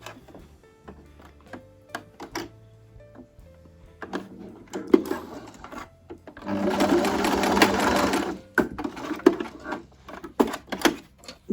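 Sewing machine stitching cord piping onto fabric, heard up close in short bursts of rapid clatter with a sustained run in the middle, separated by clicks and handling noises.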